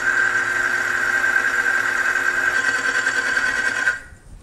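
A bicycle chain lube test machine runs a dry-lubed chain with no reservoir, giving a steady mechanical whir and hum with a persistent tonal whine, then spinning down and falling quiet near the end.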